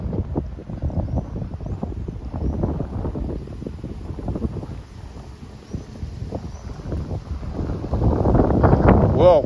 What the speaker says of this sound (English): Whoa, it's windy again today.